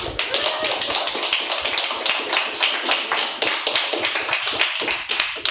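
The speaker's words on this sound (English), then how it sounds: "Another round of applause." Audience applause closing an afternoon fiction reading at a bookstore event, a dense steady patter of many hands clapping at close range that carries on evenly for several seconds with no talk over it.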